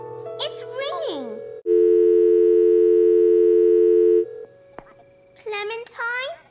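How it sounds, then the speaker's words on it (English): Telephone tone heard on a call placed from a home phone, a steady continuous electronic tone lasting a few seconds, framed by a voice speaking before and after it. "It's ringing!"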